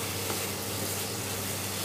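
Thick carrot halwa, carrots cooked in ghee and milk, is stirred in a pan over a medium flame, giving a dense, continuous sizzling hiss that stays even and close throughout.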